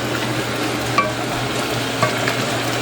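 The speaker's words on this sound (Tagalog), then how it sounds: "Siyempre, haluin natin." Pork asado frying in a pan is stirred, a steady low sizzle with a couple of soft scraping clinks from the utensil, close and alone without talk.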